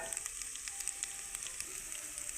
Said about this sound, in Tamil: இப்போ எண்ணெய் காஞ்சோடனே பாவக்காய் ஆட் பண்ணிக்கலாங்க